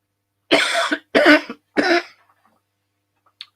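A man coughs three times in quick succession, close and loud, each a harsh burst, followed by near silence and a faint click.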